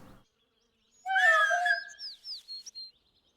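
A pet cat gives one drawn-out meow indoors, followed by a string of short, softer chirping mews, close and alone with no talk over it.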